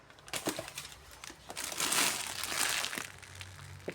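One-litre plastic food storage bags crinkle and rustle up close in bursts of sharp crackling, without talk over them.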